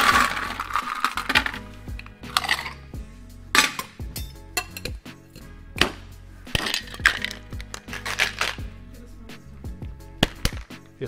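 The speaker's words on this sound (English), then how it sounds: "Add ice to the shaker and give it a shake." A cocktail shaker full of ice is shaken vigorously for a bourbon spritz, producing bursts of rattling, clinking ice and metal in uneven rhythm, close and loud, with no talking.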